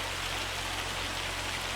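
Rain in the video game Farming Simulator 25 falls as a steady, dense hiss, even and continuous throughout without any voices.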